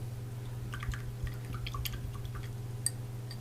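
Liquid being poured and trickling into a container, a scattering of soft drips and splashes at close range over a low constant hum, with no talking.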